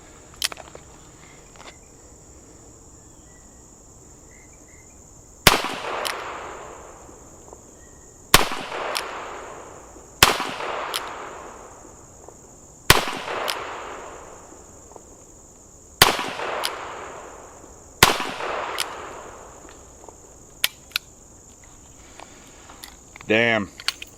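Smith & Wesson 65-3 .357 Magnum revolver fired outdoors, six sharp loud shots spaced a few seconds apart, each with a ringing decay, over steady insect buzz and faint movement.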